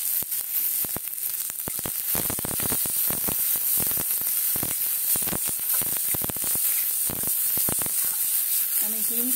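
A cauliflower paratha filling sizzles loudly in a hot pan, the steady frying hiss broken by a quick run of scraping and knocking strokes as it is stirred.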